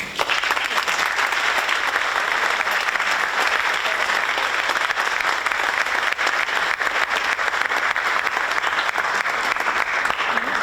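A large audience at a 2023 board recognition ceremony applauds an honoree named Stacy, a dense, steady wash of clapping that holds evenly for about ten seconds without any talking.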